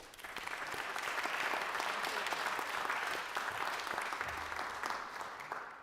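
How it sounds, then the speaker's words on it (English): At a township committee meeting, an audience applauds the local historical society with a dense, steady wash of clapping that swells slightly in the middle and carries on without a break, quiet and somewhat distant. "So can we give them a round of applause?"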